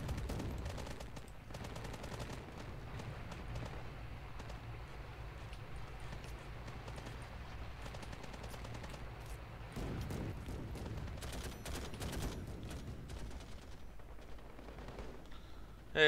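A BTR-82A's 30mm cannon fires in a Call to Arms battle: a dense, steady barrage of rumbling shots and low booms that holds at even loudness throughout, with no voices.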